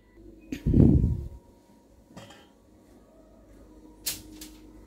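A rice pot with its lid lifted after the rice has sat cooking for about an hour without a pressure cooker, giving a single muffled thud and scrape of the lid, then a few soft knocks and a brief sharp clink near the end.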